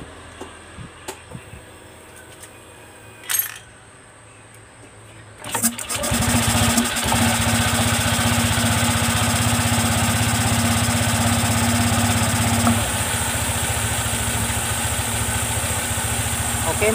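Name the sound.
Honda Vario 150 motor scooter engine started and idling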